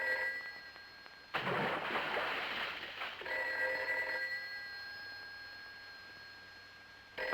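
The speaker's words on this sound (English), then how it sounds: "Of all the cockeyed times for the phone to ring." A 1950s telephone bell rings with steady, bright tones, broken by a brief burst of louder, rougher clatter before the ringing resumes and fades slightly, with no voices.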